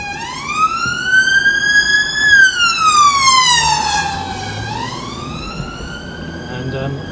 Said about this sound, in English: Comes the ambulance to let them by.